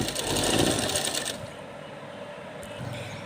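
A domestic sewing machine runs fast, stitching a small Laddu Gopal summer dress, its rapid mechanical whirr loud and close for just over a second before cutting to quieter handling and room noise.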